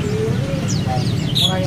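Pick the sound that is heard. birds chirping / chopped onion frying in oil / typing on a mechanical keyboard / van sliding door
birds chirping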